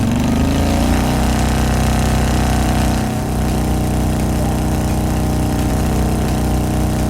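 Motorcycle engine in the video game Trails of Cold Steel, a loud steady drone with a brief dip around a gear change before it settles back into an even running note.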